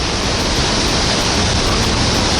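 A loud, unbroken roar of falling water at Devil's Throat, Iguazu Falls, Brazil, dense and close, filling everything with steady rushing noise.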